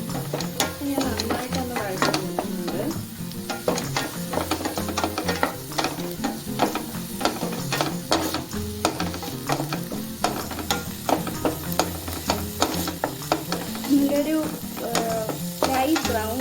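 Onions and greens being stir-fried in a pan for Kerala egg thoran, with steady scraping and stirring strokes over a continuous close sizzle, no talking.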